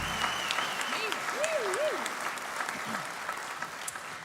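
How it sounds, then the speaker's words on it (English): Steady applause from a Celtic music festival concert crowd fills the whole stretch, a dense even patter of many clapping hands with a voice faintly audible underneath. "Please give them a round of applause."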